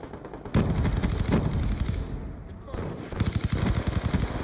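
Rapid automatic gunfire from the video game Call of Duty Black Ops 2 comes in loud, close bursts of repeated shots, with a short pause and a small electronic blip between volleys.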